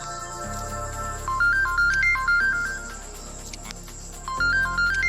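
Incoming-call phone ringtone, a bright melodic tone pattern that plays, pauses, then starts again, loud and close with no one speaking.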